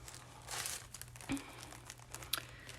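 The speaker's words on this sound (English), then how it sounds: "So these I'm going to fold up into envelopes to put inside these pockets." Paper is creased and folded by hand into small red and green envelopes for a Christmas craft, giving soft, close crinkles and rustles with one sharper crackle, quiet overall and without talk.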